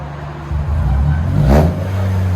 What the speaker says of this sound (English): 2022 Corolla XSE with a muffler delete